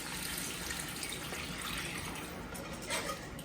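Low-sodium chicken broth being poured into a pan of gravy for smothered pork chops, making a continuous close splashing, gushing pour with no talk over it.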